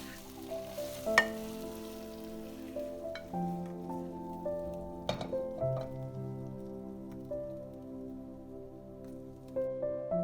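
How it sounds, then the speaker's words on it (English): Pork ribs are stirred through fermented rice sauce in a pan, giving a steady close sizzle with soft scraping and clinks, over sustained tonal background music and no talk. "Mix the sauce evenly with the meat."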